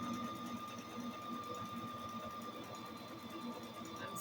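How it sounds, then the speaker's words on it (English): A sewing machine stitches a wool diaper cover with a steady, continuous mechanical whir and rapid needle chatter, loud and close, running unbroken throughout. "stop talking and then start sewing"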